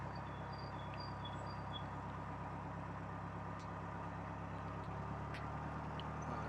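A narrowboat engine runs steadily inside Braunston Tunnel, a constant low idling chug with a rhythmic beat that fills the enclosed space, unbroken and without speech.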